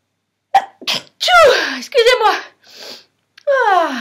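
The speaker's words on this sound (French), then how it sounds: "J'adore éternuer. Je trouve que c'est libérateur." A few short sounds lead into a loud, close sneeze, followed by a second sharp sneeze-like burst, with no clear talking.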